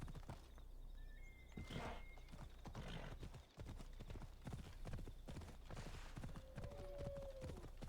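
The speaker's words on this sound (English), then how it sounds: "Let's abscond on my feathery horse." Horse hooves clip-clop steadily at a gallop in Assassin's Creed Odyssey, with a brief neigh partway through, loud and continuous against game ambience, with no talk over it.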